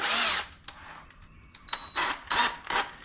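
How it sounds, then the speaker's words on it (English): A power drill whirs in several short, loud bursts with brief pauses between, biting into a metal tab up close on a Toyota FJ40. "And I'm gonna drill this tab right here."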